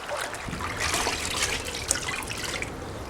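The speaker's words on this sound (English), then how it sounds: "rinsing that in a bucket of cold water" A dirt bike air filter is rinsed in a bucket of cold water, giving close, steady splashing and trickling with small drips throughout.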